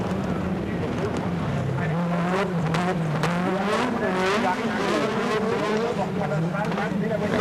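A Peugeot 205 or Lancia Delta rally car at full revs around a circuit during the 1988 Race of Champions final, its steady engine drone rising and falling with gear changes, loud and continuous under a commentator's voice.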